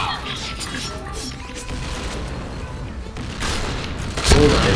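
A grenade goes off in a video game shooter, a loud blast and crash rising near the end above a busy bed of gunfire and game noise, with voices talking over it.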